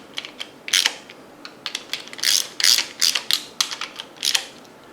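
A hand ratchet snugs down the cylinder head bolts on a 383 engine during a rebuild, with close, crisp bursts of clicking in irregular runs separated by brief pauses. No voices.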